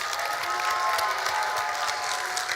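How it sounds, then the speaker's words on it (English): A crowd applauds steadily, a dense wash of clapping that holds at an even level throughout, after a student stage presentation at GEN-E 2023. "A big applause and a final for everything."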